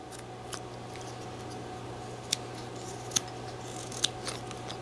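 A whittling knife carving a wooden hound dog caricature, with soft scraping under a low steady hum and three sharp, distinct clicks of the blade spaced about a second apart.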